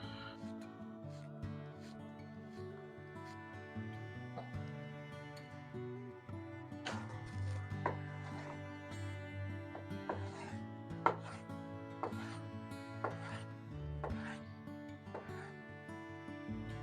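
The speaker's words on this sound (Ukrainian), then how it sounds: "Нарізаємо інші інгредієнти." A knife taps rapidly on a cutting board chopping vegetables into cubes, in quick, irregular chops over a steady musical backdrop, close and clear.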